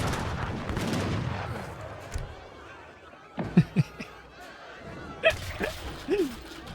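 Cannon fire in the real-time strategy game Age of Empires III, a few sharp booming blasts clustered mid-clip over a busy battle background, with casters talking and laughing throughout.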